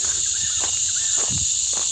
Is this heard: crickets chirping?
yes